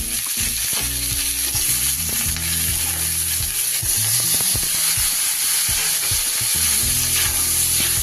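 Carrot, beans, yardlong beans and eggplant stirred in a hot pan for a Bengali shukto, giving a steady close sizzle with scraping stirring strokes throughout, no talking.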